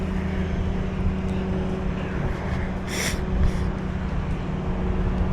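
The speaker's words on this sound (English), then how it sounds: "There goes the Coast Guard helicopter again." A Coast Guard helicopter passes over Clearwater Beach on a chilly evening, its steady rotor and engine drone spread continuously under light wind and beach ambience, with no talk.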